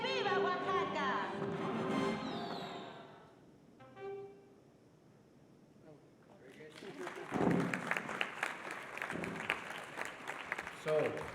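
Audience applause after a Guelaguetza dance performance at a meeting, a sustained burst of many hands clapping that swells in the second half and follows a stretch of voice and a quieter pause.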